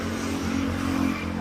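A 2018 Toyota Wigo G with automatic transmission hums along on a test drive, its engine giving a steady low drone with a faint rise in pitch toward the end, heard from inside the car.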